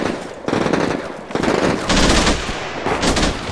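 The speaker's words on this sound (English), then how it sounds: "There, the machine gun's all set up." Bursts of machine gun fire in the video game Combat Mission Shock Force, urban combat in Al Amarah: several loud, rapid automatic volleys in quick succession with short pauses between them.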